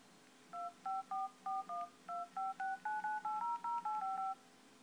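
A Nexus S Android phone's dialer keypad plays about fifteen dual-tone beeps in quick succession, each short and clear, tapped at a steady, slightly quickening pace in a quiet room.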